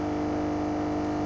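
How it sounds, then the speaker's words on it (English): A damaged vehicle engine in PUBG Mobile, apparently with a failing head gasket, gives a steady, harsh, rough hum. The short burst is constant and loud, with no talk. "That's not a good engine noise."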